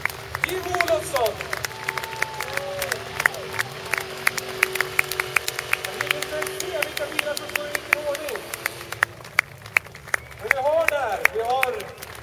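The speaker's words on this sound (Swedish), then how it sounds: "Och nu slutar vi inte applådera för här kommer han!" An outdoor crowd claps for drifting champion Johan Halvarsson as he steps out of his Nissan at the 2013 Östersund Airport drifting race. Scattered, sharp claps continue under an announcer's voice, swelling briefly near the end.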